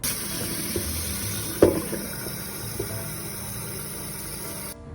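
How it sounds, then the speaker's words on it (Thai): Water runs steadily into a kettle for boiling, a close, even rushing with a brief clunk partway through, then the flow cuts off near the end. "แล้วก็อันเป็นกาน้ำที่เราจะไปต้มน้ำ"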